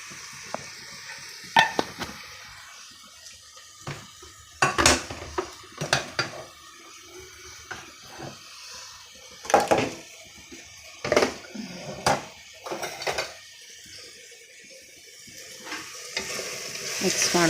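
Spices with turmeric are stirred in a frying pan: sharp, separated scrapes and clanks of a spoon against metal over a faint sizzle, irregular and close, no talk.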